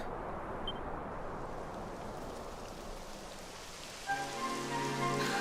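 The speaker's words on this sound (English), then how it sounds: "It would have to go and start raining, wouldn't it?" Steady video-game rain from Dragon Quest XI S patters down in a dense hiss, joined near the end by a brief rising tonal sound over the downpour.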